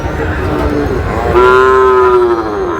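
Cattle at the traditional Ambari livestock market in Dinajpur, where young bulls and heifer calves are sold. One long, loud moo from a nearby cow rises midway and holds for over a second over a steady market din.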